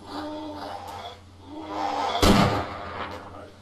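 A single sharp, heavy gunshot in the DayZ mod, fired nearby in a cowshed skirmish, booming above a low rumbling game background and faint voices.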